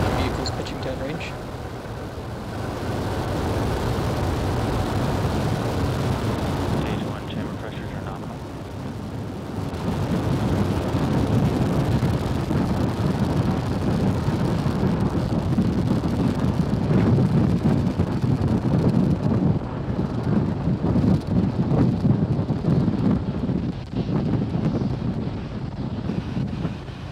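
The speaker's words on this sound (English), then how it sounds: "Falcon 9 has successfully lifted off from Pad 39A at Kennedy Space Center" Falcon 9 rocket lifting off from Pad 39A at Kennedy Space Center with a Starlink payload: a loud, sustained broadband roar and rumble that swells after a few seconds and holds steady, with wind-like buffeting throughout.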